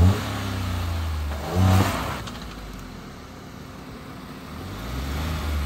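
A car stuck in mud revs hard in first gear, its engine surging loudly near 1.7 seconds, then holding a steady, strained drone as it tries to pull free.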